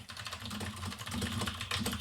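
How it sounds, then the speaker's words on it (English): Rapid typing on a loud desk computer keyboard, a dense run of clacking keystrokes heard close up and alone for about two seconds. "I should get a quieter keyboard for this desk, huh? I think it's fun that everybody knows when you're typing."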